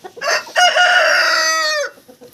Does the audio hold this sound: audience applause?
no